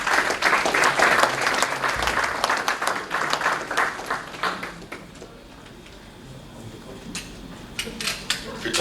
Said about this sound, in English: let us clap for Mrs. Atinuke Stanley Pepper.